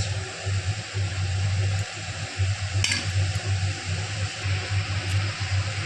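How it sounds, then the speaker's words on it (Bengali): Mixed vegetables with red amaranth stalks are stirred in a pan with a spatula, a close, steady scraping and sizzling with low rhythmic scrapes repeating throughout, and no talking. "সব একসাথে খুন্তি দিয়ে নাড়িয়ে নেওয়ার পর"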